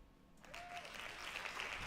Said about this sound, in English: Hand claps.